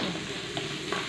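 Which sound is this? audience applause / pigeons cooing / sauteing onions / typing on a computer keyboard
sauteing onions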